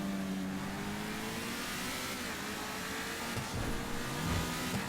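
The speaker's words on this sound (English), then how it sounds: "that's just such a good engine sound" An Infernus supercar in GTA Online revs its engine, a mid-pitched roar rising and falling through a few throttle blips, fairly quiet and uninterrupted by talk.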